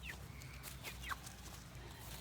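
Garden chickens cluck softly nearby, a few brief calls and chirps over a low background rumble, with no talking.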